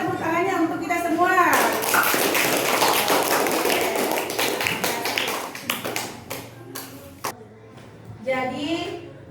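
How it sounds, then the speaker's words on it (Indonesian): Classroom applause in an Indonesian-language lesson, a dense burst of clapping that swells after a spoken prompt, runs for several seconds, then thins into scattered claps as voices return. "Sekarang berikan tepuk tangannya untuk kita semua."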